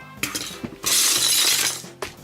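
Pieces of a Bulk Arm Alpha plastic model kit snap and crack apart, with several sharp close cracks and a sustained brittle crunching burst, then one more snap, with no talking.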